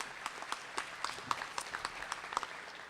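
Sparse, fairly quiet clapping from a breakfast crowd at a Rooster Booster Breakfast in Owensboro, with scattered individual claps and no talk over it.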